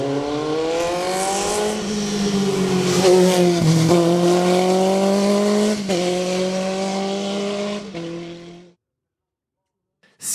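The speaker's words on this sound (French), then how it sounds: "Et Jackie Bonneau, au volant de sa Dallara F390 Formule 3" A Dallara F390 Formula 3 race car at a French hill-climb championship for historic vehicles screams past close by, engine pitch climbing through several gear changes before cutting off abruptly, loud and alone.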